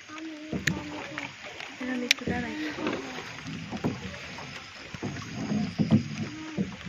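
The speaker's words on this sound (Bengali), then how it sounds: "নৌকা চালাচ্ছে" A small boat is rowed in the rain at a village, with water splashing and sloshing against the hull in uneven strokes, and people talk quietly on board.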